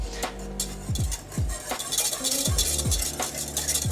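A whisk stirring thickening ice cream custard batter in a pot, with steady rhythmic strokes that scrape and clink against the metal, close up and without talk.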